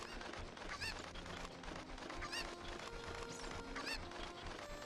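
Chickens (Cuccos) cluck and squawk in short bursts over a busy, constant background of game sounds from The Legend of Zelda: Ocarina of Time, with no talking.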